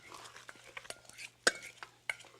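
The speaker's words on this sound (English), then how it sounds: "yes, stirring quickly." Pasta sauce stirred rapidly in a pan so it won't curdle, with quick scraping and light utensil taps, then a couple of sharp metallic clinks, heard close under faint murmured talk.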